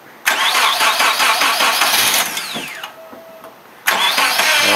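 A car with a rejuvenated 0.75-volt battery cranks hard for a couple of seconds, nearly catches and winds down with a fading whine, then a second cranking burst begins; close and loud.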